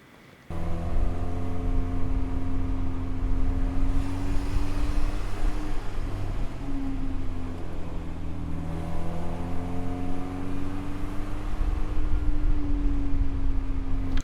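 A car's exhaust drones steadily while driving, a low rumbling tone that rises and falls gently with changes in engine speed, starting abruptly and staying moderately loud throughout.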